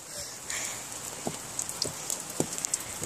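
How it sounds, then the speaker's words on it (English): Rain falls outdoors in a steady, quiet hiss, with occasional sharper drops and taps on nearby surfaces standing out from the wash. "It's raining, it's pouring."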